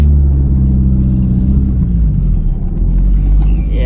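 A Toyota MR2 drives a short stretch back to the shop, with a loud, steady low engine rumble and road noise running throughout and no talk.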